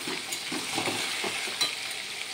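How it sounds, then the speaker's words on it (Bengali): Steady sizzle of taro and potato frying with onions in a pan, with the scrape and clatter of stirring now and then. No voices. "কচু আলু দিয়ে দিয়েছি, ভালো করে একটু পেঁয়াজের সাথে ভালো করে ভেজে নেব"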